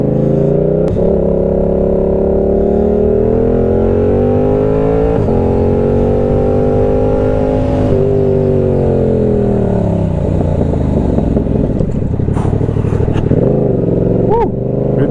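A Yamaha R7 sport motorcycle, restricted to 47.5 hp for an A2 licence, accelerates while being ridden. Its engine is loud and close, with a steady drone that swells and shifts in pitch through the gears.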